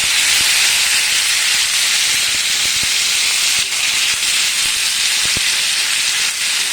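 Chicken pieces fry hard in sunflower oil over a high flame, a loud, steady, close hiss and sizzle with scattered sharp pops and crackles throughout.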